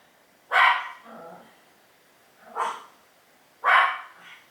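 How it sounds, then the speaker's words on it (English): A pet dog gives three separate barks at close range, each sharp and loud with a short softer tail, spaced by quiet pauses. "that's my doggy Tazi."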